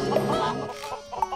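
A chicken in the game Mini World clucks in short, close, bright calls over a busy background.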